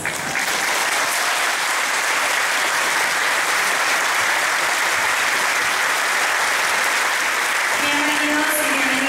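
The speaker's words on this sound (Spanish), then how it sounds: "les pedimos un fuerte aplauso para recibir a los alumnos y" An audience at a law graduation ceremony claps loudly and without a break as the graduating students are welcomed. The dense applause fills the whole stretch, and a faint voice shows through near the end.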